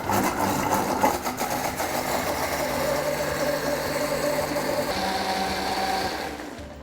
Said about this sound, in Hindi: अब इसको हम ग्राइंड करेंगे, और उसमें जाएगी ढेर सारी ताज़ी पुदीना।